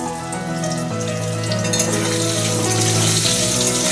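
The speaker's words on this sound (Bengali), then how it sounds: "আলুটা ভেজে নিচ্ছি।" Potatoes fry in hot oil seasoned with a bay leaf, panch phoron and hing for a vegetarian mixed vegetable curry with jackfruit seeds. A steady close sizzle runs throughout under a tonal musical background.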